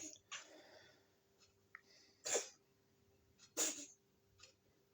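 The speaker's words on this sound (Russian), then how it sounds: "Чихающая, Мура, чихающая" A pet cat sneezes twice in a kitchen, two short sharp bursts a little over a second apart, close and fairly quiet over faint background noise and small clicks.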